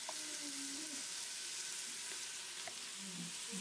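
Meat fries with a constant soft sizzle in a pan while being stirred, faint scraping and small pops over the steady hiss, no voices.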